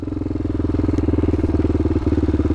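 A 2007 Honda 400EX quad engine runs steadily while riding trails, with a close, loud, pulsing single-cylinder thump and no voices.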